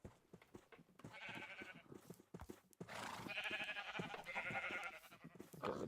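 Sheep bleating in Minecraft, a few blocky game-animal bleats rising in bursts over a steady background of farm-animal noise, with a person talking over parts of it.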